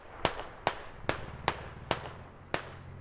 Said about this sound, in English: BTR has been shooting